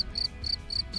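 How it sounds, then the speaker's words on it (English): Cricket chirping in short, regular high-pitched trills, about five bursts spaced evenly with a low background rumble between them, fairly close and clear. "Everyone knows about crickets. They make that loud noise like this one."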